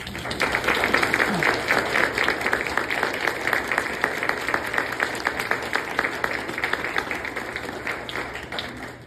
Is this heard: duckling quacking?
no